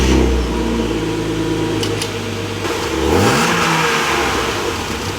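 A BMW M52B28 2.8-litre six-cylinder engine in a rear-wheel-drive project car runs loud and close, settling into a steady hum before a revving rise and fall around the middle, with no talking.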